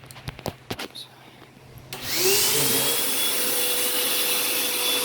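A few sharp knocks and clicks, then a vacuum switches on and runs steadily with a loud, rushing whine, close by, sucking carbon deposits from the intake of an Audi B8 A4 2.0T engine.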